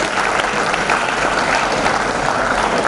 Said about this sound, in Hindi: मैं चाहता हूं कि एक बार उनके लिए भी ताली बजाएं